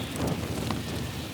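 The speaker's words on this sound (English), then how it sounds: "the wind's picking up again" Strong gusts of around 50 mph buffeting a tent, heard as a continuous blustery roar of wind noise across the microphone with no voices.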